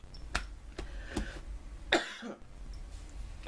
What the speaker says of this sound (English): It's those coughing fits.